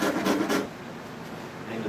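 Rasp carving the heel of a wooden guitar, a few quick rough rasping strokes up close at the start, then a quieter scraping continuation.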